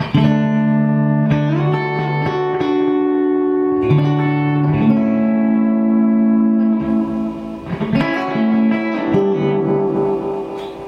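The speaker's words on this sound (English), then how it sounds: "if you turn the repeats up, you can get something a little more like reverb" Guitar notes ringing out through a PT2399-based delay pedal with many repeats and the amp reverb off, the echoes blurring into a sustained, reverb-like wash.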